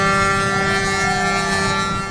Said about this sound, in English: That's the sound of WA's longest yachting race drawing to a close.